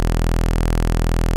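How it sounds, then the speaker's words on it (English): A stock Serum synth bass preset playing in Ableton: one sustained, dense, buzzy tone that holds at an even loudness throughout, heard alone. "So all I have here is just a stock serum preset."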